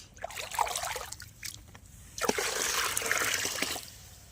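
Water scooped from a holding pool into a bucket in an onion field, heard as a couple of close splashing, pouring bursts with trickling in between and no talk.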